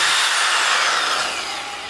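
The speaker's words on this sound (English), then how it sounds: "I think I gotta go to the drill again." A power drill whirs loudly and continuously up close while working on a Dodge Viper differential, a dense high-pitched grinding tone that eases slightly toward the end.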